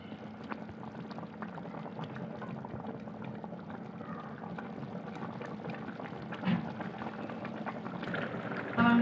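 Beef yakhni stock simmers and bubbles in a pot, a continuous soft burbling with faint liquid gurgles and no one speaking.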